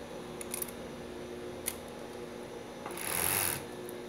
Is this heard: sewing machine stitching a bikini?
yes